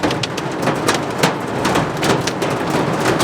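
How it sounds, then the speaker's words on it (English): Hail drums steadily and densely on a moving vehicle during a drive, a loud continuous rattle with sharper individual impacts scattered throughout. "And now it's hailing."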